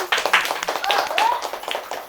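A short burst of scattered hand claps for a game winner at a comedy show, close and uneven, with a few whistling squeaks mixed in.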